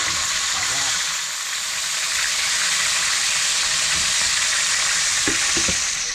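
A fish head fries in hot oil, giving a steady, loud, broadband sizzle that continues without pause, with a few faint knocks near the end.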